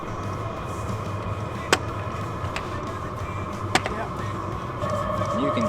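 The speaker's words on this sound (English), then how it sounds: "You can hear that's on level 4 how loud that pump is clicking right now." Fuel pump of an Hcalory Toolbox 2 diesel heater running on level 4 at a winter campsite. Sharp single clicks come roughly every two seconds over a steady low background hum.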